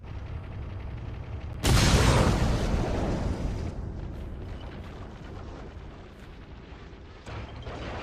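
A single loud, close cannon blast in the game Ace Combat 6 erupts suddenly and rolls into a long fading rumble, with a smaller thump near the end over a steady background drone.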